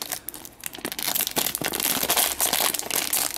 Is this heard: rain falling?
no